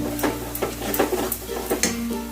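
Mashed taro with a little mustard oil stirred in a pan, giving repeated soft scraping strokes at a steady pace over a faint sizzle, close by with no talking.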